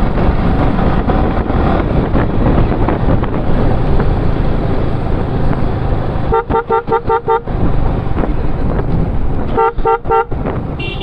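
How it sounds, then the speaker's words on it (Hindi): Horn of a Yamaha R15 V3 motorcycle honks in a traffic jam on a mountain road near Rajouri, two bursts of rapid short toots under steady loud wind buffeting and traffic rumble. "अभी उनको मैं हॉर्न भी मार रहा था"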